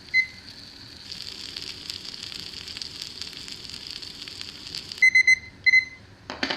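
A steady high electronic tone hums under faint sizzling of hash browns frying, then a kitchen timer's short sharp beeps sound in quick bursts near the end.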